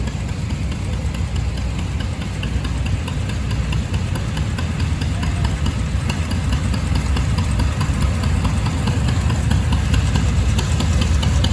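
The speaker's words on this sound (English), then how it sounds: "Here's kind of a custom tractor. The 1951 Farmall M with flat top fenders that have been put on." A 1951 Farmall M tractor engine idles nearby at a classic tractor show, a continuous low rumble with a faint rhythmic knock holding even throughout.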